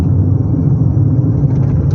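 Inside the cabin of a 2014 VW Gol 1.6, a low steady engine drone fills the car while accelerating, continuous and fairly loud with no talking.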